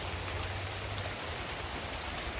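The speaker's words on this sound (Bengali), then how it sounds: "খুব ভয়াবহ বৃষ্টি পড়তেছে" Heavy rain pours down in a dense, steady hiss that fills the whole moment without pause or any voices.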